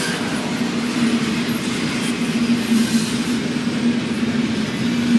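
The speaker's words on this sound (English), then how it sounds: "Oh, this one's going to be a long train." A long Norfolk Southern southbound intermodal freight train rolls past close by, a steady loud rumble of wagons and wheels on rail with a sustained low hum and faint wheel squeal, no voices.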